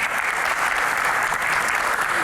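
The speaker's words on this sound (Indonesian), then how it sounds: "Tepuk tangan dong." A live talk show audience claps in a brief, steady, fairly loud burst of applause that fills the whole moment.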